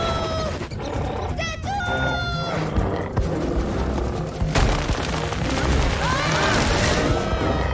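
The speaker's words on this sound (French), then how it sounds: "C'est les tigres qui sortent." Cartoon tigers roar amid a busy, dense mix of crashes, thumps and loud cartoon effects, with the roars fairly close and layered among other noise and brief vocal sounds.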